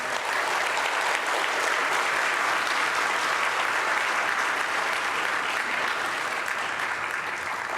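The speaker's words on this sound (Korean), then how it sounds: "우리 성교사님 나오실 때 우리 크게 박수로 환영해 주시면 감사하겠습니다." A church congregation at a Sunday service applauds loudly to welcome a missionary to the front, a steady wash of many hands clapping that holds evenly throughout with no talk.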